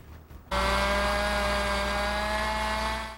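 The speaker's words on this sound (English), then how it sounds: "A chorus of chainsaws, not what you expect to hear Christmas morning." Chainsaws cut up storm debris after tornadoes near Tampa, a loud steady motor whine kicking in abruptly after a brief pause and holding at full throttle.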